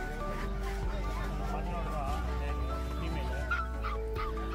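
German Shepherd cross puppies for sale at a busy Friday market in Pallavaram, Chennai, yip and whimper repeatedly over the crowd's chatter and bustle.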